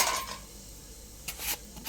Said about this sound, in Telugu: ఇప్పుడు ఈ ముక్కలు ఇందులో వేసేస్తున్నాను